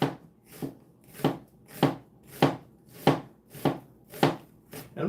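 A kitchen knife slices thinly through onion on a cutting board, nine or ten crisp, evenly spaced cuts at a steady rhythm, close and distinct, with no talk over them.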